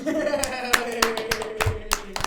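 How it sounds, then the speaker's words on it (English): Irregular hand claps, a dozen or so sharp close strikes spread over two seconds, heard alongside people talking. "We do clap a lot"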